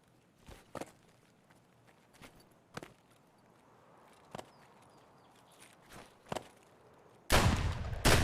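Single gunshots crack at irregular intervals in Escape from Tarkov, seven or so spaced shots over quiet background, ending in a louder sustained burst of noise.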